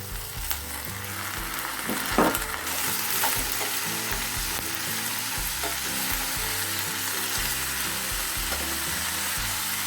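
Cauliflower and green peas fry together in a pan, giving a steady, loud sizzle throughout with occasional clinks of stirring.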